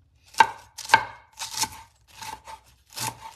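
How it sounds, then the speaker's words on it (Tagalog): Cabbage sliced thinly with a knife on a board, five crisp chopping strokes spaced about half a second apart, close and clear, with no talking. "Nipisin lang po ang paghiwa."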